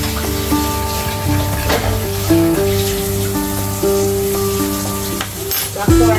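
A pan of home-cooked dinner sizzles loudly after a thickening slurry goes in, with steady frying crackle, stirring scrapes and sustained tonal music playing over it.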